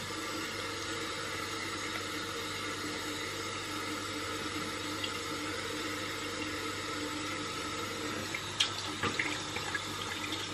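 Lukewarm water from a tap running steadily into a sink while a face is rinsed, a close continuous hiss with a few faint splashes and knocks near the end, no talking.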